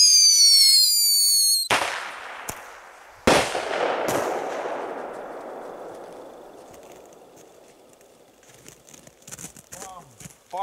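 Several sharp firework rocket bangs burst out, each followed by a long crackling, sizzling tail that fades slowly, with more scattered pops near the end.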